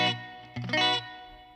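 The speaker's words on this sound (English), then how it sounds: "right now I have a very light chorus and a pretty good hall reverb" A few electric guitar notes from a Fender Mustang GTX amp ring out with a light shimmering chorus and a roomy hall reverb tail that fades after the last strum.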